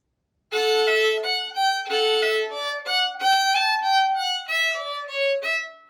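A solo fiddle plays a short melodic phrase from the tune Liberty, separate bowed notes with brief gaps between them, clear and close, with no other sounds.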